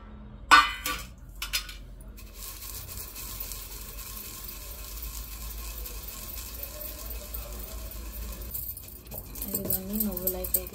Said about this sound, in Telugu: రోట్లో అయితే దంచుకుంటున్నాం పచ్చడి.